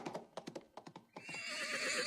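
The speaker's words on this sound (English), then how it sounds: "The sound of the horse was very clear" A horse neighs in a long, loud whinny after a few sharp hoof clops, a close, clear sound effect for an audiobook of a stagecoach scene on a misty road.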